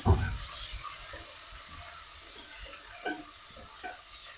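Onion frying in a pan with a steady sizzling hiss, stirred with a few soft scrapes and clicks, close by and without speech.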